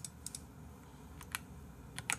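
Computer keyboard keys tap in short scattered bursts: a few quick clicks, a pause, then more clustered keystrokes close to the microphone over a low background hum.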